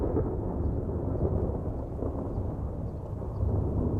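A thunderstorm rumbles steadily with low, rolling thunder and a dense wash of rain, loud and continuous throughout.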